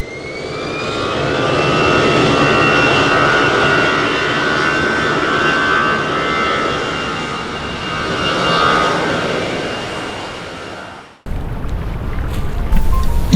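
A jet airplane roars at Gibraltar airport during landing or takeoff, loud and sustained for about eleven seconds with a slight swell, then cuts to wind buffeting and outdoor rumble.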